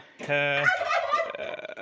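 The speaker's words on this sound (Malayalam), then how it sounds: "ഈ കൂട്ടിലും ആ കൂട്ടിലുമായിട്ട് നിറയെ ടർക്കികളായിരുന്നു" A turkey on a rooftop terrace gives a single close, rattling gobble that breaks into a few shorter, fading calls.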